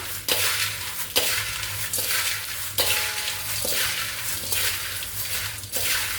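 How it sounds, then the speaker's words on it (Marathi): Makyacha chivda, a corn flake snack, is tossed and mixed in a pan, with repeated crisp scraping and rustling strokes at a steady pace and sharp spoon knocks against the metal every second or so. "आता आपल्याला छान असं छान असं मिक्स करून घ्यायचं"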